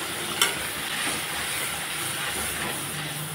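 A mustard and turmeric masala paste fries in hot oil while being stirred, giving a continuous close sizzle and hiss with a sharp scrape or clink near the start and soft stirring movements throughout.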